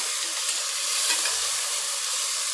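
Curry leaves and ginger sautéing in a pan for a lunch-box rice make a continuous, even sizzle and hiss, close and steady, with no talking.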